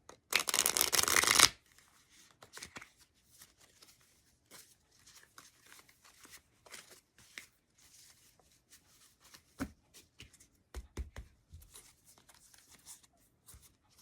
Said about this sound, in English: All right, one last shuffle and we'll get started.